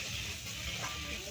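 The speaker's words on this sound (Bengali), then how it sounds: "এবার আমরা এই সবগুলোকে কষিয়ে নেব। আমরা ভালো করে এগুলোকে নেড়ে নেব।" Spices and vegetables, cauliflower with soy chunks, sizzling in a pan while being stirred during home cooking, a steady close hiss with faint scraping, under a quiet voice.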